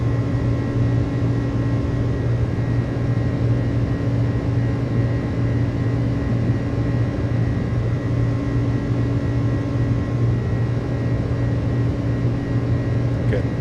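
Airbus A300 engines at climb power in a flight simulator game, a loud, steady, continuous drone with a low hum that holds level and unbroken throughout.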